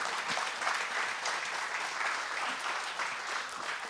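Quiet, steady applause from a church congregation, even and continuous throughout, heard somewhat distant with faint voices underneath.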